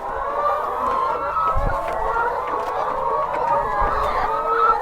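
Hens on a poultry farm cluck continuously in a dense, close chorus, with occasional louder calls rising from the flock and a few thumps underneath.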